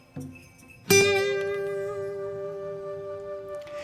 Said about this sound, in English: The second vibrato that I use a lot is with my index finger.